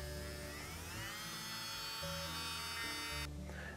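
A 12-volt power drill powered from a Maxim machine whirs continuously up close with an even, high motor whine, then its tone changes abruptly near the end.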